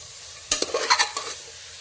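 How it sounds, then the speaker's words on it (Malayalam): Five finely chopped onions dropped into a hot pan for Kerala-style chicken curry: a sudden loud sizzle and a few stirring scrapes, fading quickly into quieter frying, with no voices. "ഇതിലേക്ക് നമുക്ക് 5 സവാള ചെറുതായിട്ട് അരിഞ്ഞത് ചേർത്ത് കൊടുക്കാം. എന്നിട്ട് ഇതൊന്ന് വഴറ്റി കൊടുക്കാം."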